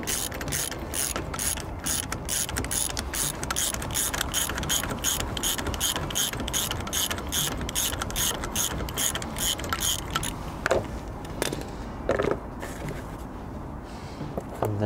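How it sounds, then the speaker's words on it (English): A ratchet wrench clicks rapidly and steadily while undoing the hub nut on a Triumph Spitfire, close and loud, with the clicking slowing into a few separate clicks near the end. "and then the hub nut can then just be undone."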